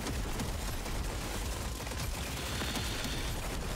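Enemy gunfire in Deep Rock Galactic Survivors crackles as a busy, continuous volley of rapid shots and small bursts, fairly faint and steady throughout with no talking.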